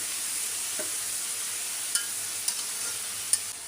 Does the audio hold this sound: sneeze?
no